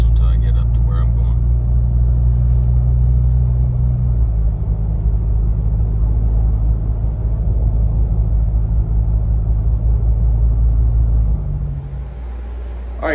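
A 2021 Ford Ranger with a Roush cat-back exhaust cruises along, its deep, loud exhaust drone and road rumble holding steady before the note shifts lower near the end.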